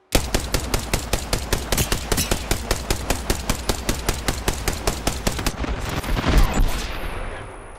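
A rapid, evenly spaced burst of automatic gunfire in Apex Legends runs for about five seconds, loud and close. A heavier blast and rumble follow before the sound fades.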